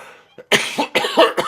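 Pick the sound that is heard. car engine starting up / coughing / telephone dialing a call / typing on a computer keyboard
coughing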